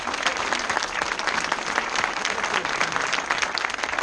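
A small group of motorcyclists gathered for an apéro claps steadily and continuously, close by, with no talk over it.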